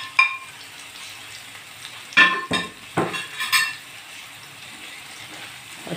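A spoon stirs tomatoes, green chillies and fenugreek in a pan, giving several sharp metallic clinks and scrapes over a quiet, steady sizzle, with pauses between the strokes.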